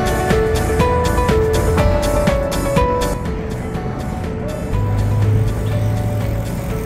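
A bus driving along a street in Vail Village, Colorado, among cafes and shops, with a steady motor rumble that swells near the end over a busy outdoor background.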